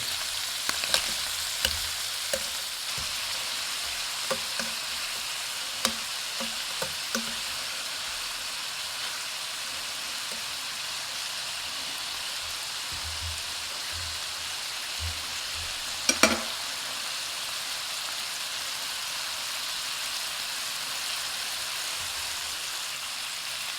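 Seasoned shrimp for a creamy garlic parmesan dish sizzle steadily in a hot pan, turning pink, with a constant bright crackle and a few light clicks from stirring or turning.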